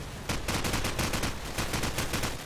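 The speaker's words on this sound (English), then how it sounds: "Rio getting a kill onto CoD there" Rapid automatic gunfire from a Call of Duty 4 match sounds in quick repeated bursts, fairly faint and distant, with no talking.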